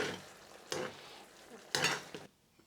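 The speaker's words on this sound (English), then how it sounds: "I'll start mixing them with the spoons" Gnocchi stirred gently with spoons in a hot pan, giving two short bursts of scraping and soft sizzling over a quiet background, then fading near the end.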